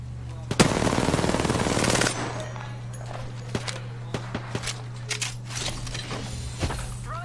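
A burst of rapid machine gun fire rattles loudly in a video game for about a second and a half, followed by scattered single shots and thumps amid game ambience.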